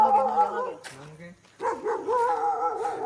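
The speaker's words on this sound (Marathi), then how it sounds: "हे कुत्रा बघा" A dog yips and whimpers in a few short, tonal bursts close by, with a brief pause in the middle.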